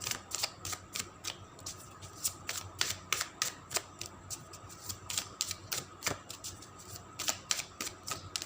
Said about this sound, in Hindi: एक कार्ड और लेते हैं